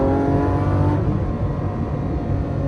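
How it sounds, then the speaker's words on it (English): A Lamborghini Aventador SV's V12 engine roars loudly up close, revving hard, then its tone drops as it shifts gears and keeps pulling. "You just want to play with the gears just to hear that V12."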